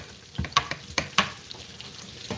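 Potatoes and sausage frying in a pan for an Easter breakfast, with a steady sizzle broken by several sharp scrapes and clacks from stirring, close and fairly loud.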